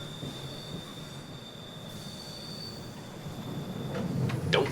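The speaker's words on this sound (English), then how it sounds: "Well, looks like our train's here, and on time." A train pulling into a station, its wheels squealing in a thin, steady high whine over a low rumble, with a sharper screech and rising clatter near the end. No one speaks.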